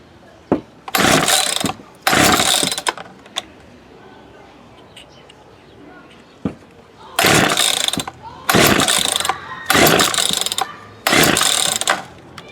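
A Poulan Wood Shark chainsaw is pull-started repeatedly; loud, close ratcheting rips of the starter cord come in bursts, two early then four later, with quiet gaps between and no clear catch.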